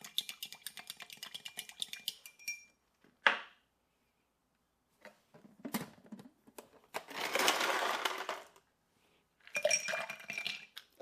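A bourbon cocktail is stirred in a glass, giving a quiet series of light clinks and tinkles. These come in short separate bursts broken by pauses, with a brief soft whoosh in the middle.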